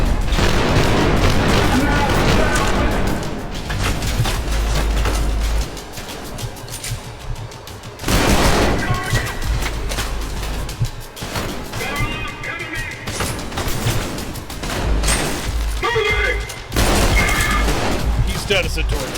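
Enemy gunfire in the shooter game Trepang2 at the Site 14 level, with loud, dense bursts of shots and booming impacts going on almost nonstop, broken by brief lulls, under a voice talking.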